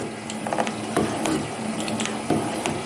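A small scale-model metal shaper cuts with its tool head moving sideways across the workpiece, giving a steady mechanical clatter with faint chatter and periodic clicks of the feed, close and alone.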